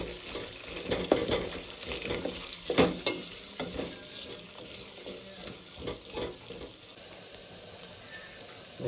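Onions and ingredients for little millet upma fry in a pan with a steady close sizzle, broken by a few scraping stirs, with no talk.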